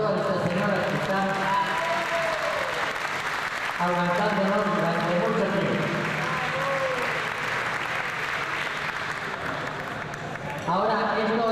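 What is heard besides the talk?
applause for the ladies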